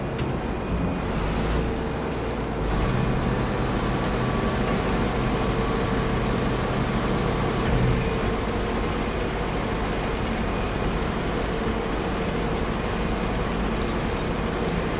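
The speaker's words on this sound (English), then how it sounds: "bring the tractor in." A tractor drives in the video game Farming Simulator 25 on PS5. Its engine drones steadily and loudly throughout, with a faint high beep early on and no speech.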